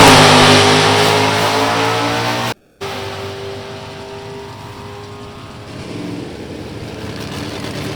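A Chevy Camaro drag race car with heads-up cylinder heads launches down the strip, its engine roaring loud and close with a harsh rising rev, then a short break before the engine noise carries on at a steady, slightly lower level.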